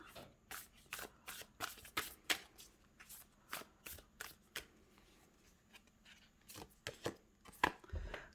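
Tarot cards being shuffled by hand in a quiet room, a soft rhythmic series of crisp riffling slaps, close and fairly faint, repeating steadily for several seconds.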